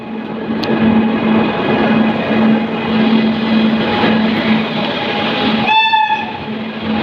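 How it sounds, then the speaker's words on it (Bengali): A loud train, the Kanchenjunga Express, rumbles and clatters steadily past as it arrives at a station, then sounds a short, piercing horn near the end. "আমাদের গাড়ির ইঞ্জিনের বাতি দেখা যাচ্ছে ট্রেন এসে গেল"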